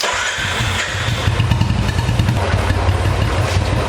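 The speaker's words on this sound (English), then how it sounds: "So let's start the bike once again." Motorcycle engine running at a steady idle after starting during chain maintenance, a loud close rhythmic putter with mechanical clatter throughout.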